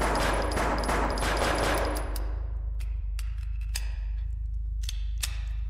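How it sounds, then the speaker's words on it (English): Scattered gunshots in a horror video game: a dense burst of rapid firing at the start, then isolated sharp cracks spaced out over a low steady rumble, with no talking. "Fire warning shots in distance."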